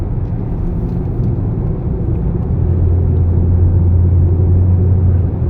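Constant low rumbling drone of a car driving through a road tunnel beneath a mountain in Saudi Arabia, with steady road and engine noise and a deepening hum toward the end, no voices.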